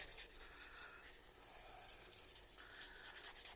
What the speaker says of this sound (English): Each stage of buffing, the nails should start to get a little shinier.